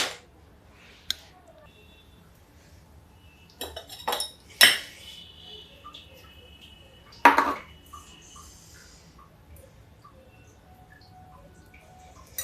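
Kadhai set onto a gas stove in a home kitchen, with pots and utensils clinking in a few sharp metallic clanks, two clusters near the middle against a quiet background.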